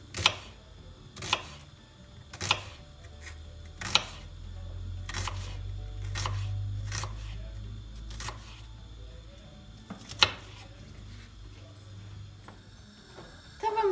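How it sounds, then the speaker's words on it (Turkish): A knife chops an onion, tapping sharply on a cutting board at an uneven pace, a dozen or so chops over a low background hum. "şimdi de bir adet soğanımız var. Onu doğramaya başlıyoruz."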